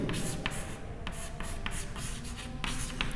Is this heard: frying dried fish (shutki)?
no